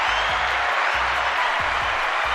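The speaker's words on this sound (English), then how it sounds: "Let me see if I can find the applause button" Canned applause from a sound-effect button plays as a steady wash of crowd clapping at constant loudness, with a faint low rhythmic thump underneath.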